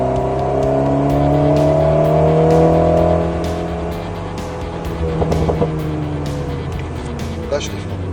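An Alpine A110 S sports car accelerates hard on a race circuit. Its engine drone climbs steadily and then eases off, with tire noise and short clicks following and a driving instructor talking throughout.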